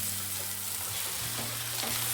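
Crushed horse gram tipped into onions browning in hot oil, a steady loud sizzle and hiss with brief stirring, no voices.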